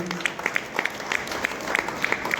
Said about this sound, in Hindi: संगीत के लिए भी ताली बजनी ही बजनी चाहिए।